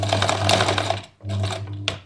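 Sewing machine stitching a zipper onto a make-up bag, a loud rapid mechanical whirr that runs steadily, stops briefly, then resumes with a short final burst.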